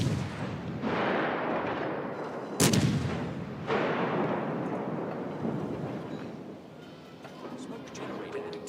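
Naval guns firing in a warship video game, booming heavy blasts with one sharp loud report followed by long rumbling decay, plus a fainter ambient rumble.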